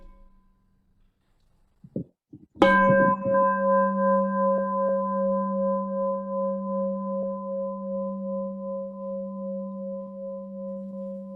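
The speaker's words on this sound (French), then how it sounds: "Un son de cloche." A single bell is struck once and then rings on alone in a quiet room, its steady, pure tone slowly decaying and sustaining for many seconds with a faint pulsing shimmer.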